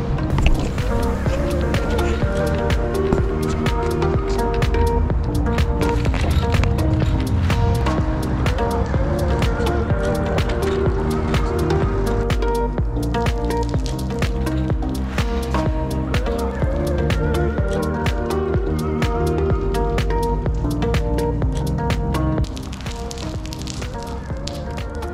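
Water runs steadily through a XERO Destroyer water-fed pole extended to 90 feet, a continuous close hiss with scattered clicks and knocks, dropping slightly in level near the end.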